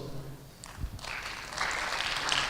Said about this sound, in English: Right, again, give applause.